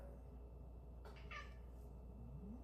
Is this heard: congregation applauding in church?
no